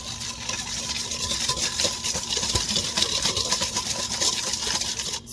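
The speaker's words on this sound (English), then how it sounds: "just to get the brown sugar mixed up, I'm gonna start giving this a whisk" Brown sugar is whisked into a beef bulgogi marinade, giving rapid continuous scraping and clicking of a whisk against a bowl at a steady, fairly loud level.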